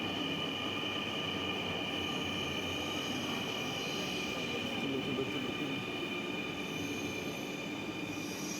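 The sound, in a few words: Dhaka metro rail train arriving at station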